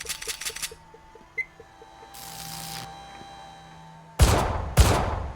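Gunfire at a mobile sentry's tires in the shooter Ravenfield: a quick opening burst of rapid shots, mechanical clicks and hiss, then two loud heavy close shots near the end.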